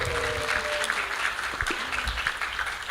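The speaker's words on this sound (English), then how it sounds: "give applause for our speakers and moderators" An audience at an international conference on democracy and national resilience claps steadily for its speakers and moderators, a dense, continuous round of applause filling the hall throughout.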